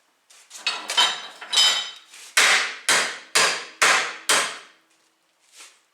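Stick welding test weld deliberately broken with hammer blows in a vise: a rapid series of about eight sharp metallic strikes, each ringing briefly, with a faint final tap after a pause.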